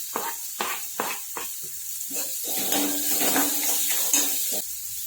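Green chillies go into hot tempering oil with mustard seeds in a pan: a few sharp utensil taps, then a steady, close, fairly loud sizzle that swells and holds, with no voices.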